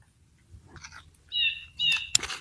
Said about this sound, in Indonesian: Tuh, rame banget burungnya. Cuit, cuit.